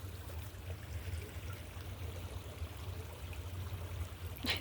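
A stream flows steadily outdoors on a nature walk, a soft, continuous trickle and rush that holds an even level throughout, with a short knock near the end.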